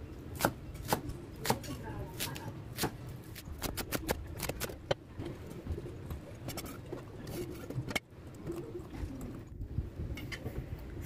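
Kangkong (water spinach) stems being cut into small pieces with a knife on a board: quick, irregular chops in bursts, close and crisp, over a quiet room background.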